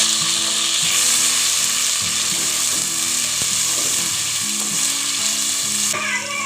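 Loud, steady sizzling of ginger-garlic paste frying with onions in hot oil, with faint scraping and stirring noises running underneath the whole time.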